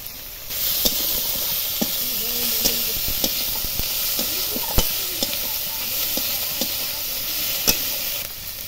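Chopped garlic and ginger fry in a pan with a dense, steady sizzle, punctuated every second or so by sharp clacks of a spatula stirring against the metal.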